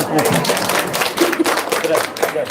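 A short burst of scattered hand clapping from a few people, brief and close, with voices talking over it.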